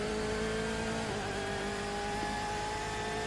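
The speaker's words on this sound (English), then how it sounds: "Had a bit of a video running from a 91 running of an IMSA race here" A race car at a 1991 IMSA race holds a steady, loud engine drone with a sustained whining tone, heard throughout with no pauses.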